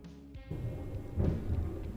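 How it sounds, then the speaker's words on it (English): Thunder rumbles in the background of a video game, a low rolling boom that swells midway and lingers briefly, heavy in the low end and alone without voices. "there was random thunder."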